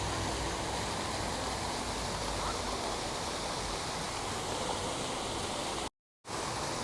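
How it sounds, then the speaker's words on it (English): Water splashing from a leaky fountain in Trafalgar Square, London, at night: a continuous, loud, dense rush of falling water, briefly cut out near the end, with no voices. "the water's leaking"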